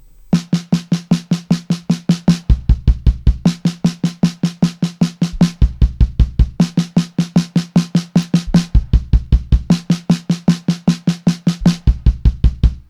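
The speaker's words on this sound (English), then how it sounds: "We remove a hand stroke and replace it with a bass drum stroke." A steady, rapid run of sharp hand strokes on a drum, repeatedly broken by short stretches of deep, booming bass drum hits.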